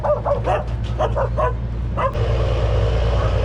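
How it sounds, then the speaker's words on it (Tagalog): Several dogs bark and yip in quick bursts beside a narrow uphill alley near a bridge between Makati and Mandaluyong, loud and fairly close, then fall away into steady street and traffic rumble. "may mga aso"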